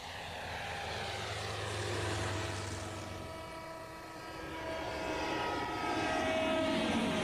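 A Bristol fighter biplane drones steadily with its propeller engine, a continuous loud roar that swells and dips slightly as it passes, with no voices.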